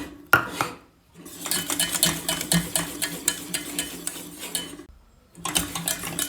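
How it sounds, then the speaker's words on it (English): A thick paste of crème fraîche and milk being whisked quickly in a pan, with steady scraping and clinking of metal against the pan that pauses briefly, then resumes. "keep whisking because we don't want lumps"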